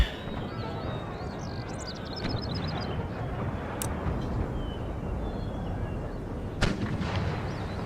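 Mortar and artillery fire in the Empire: Total War battle, dense rumbling barrages rolling continuously with distant booms and crackling reports, a sharper blast standing out near the end.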